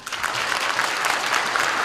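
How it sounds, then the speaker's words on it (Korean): Steady, dense applause from a seated crowd at a political party's regional launch event, loud and continuous with no talk over it. "다시 한번 뜨거운 박수로 응원해 주시고 격려해 주시기 바랍니다"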